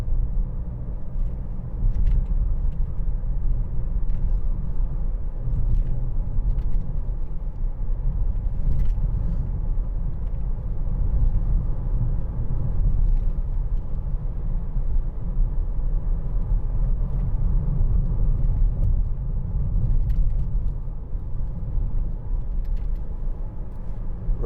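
Steady low road rumble inside a 2013 Mercedes-Benz C200 driving on a bumpy road, with a continuous cabin drone and scattered small rattles and knocks from the bumps.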